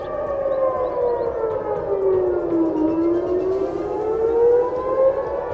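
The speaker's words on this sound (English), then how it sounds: "Warning sirens wail incessantly" A civil defense warning siren wails in northern Israel near the Lebanese border, its loud tone sliding down and then rising again in one long sweeping cycle, with no voices.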